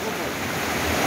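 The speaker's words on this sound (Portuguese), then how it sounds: "Olha pra força dessa água." A river flooded after heavy rain in Mundo Novo, Bahia rushes past in a constant, dense roar of water, close and unbroken.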